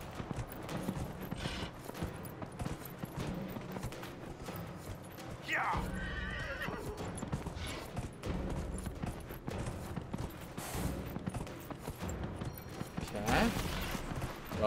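Horses whinny and gallop with steady clip-clop hoofbeats during a horse race in the Dragon Age Inquisition video game, loud and continuous, with game effects and a voice occasionally heard over the hooves.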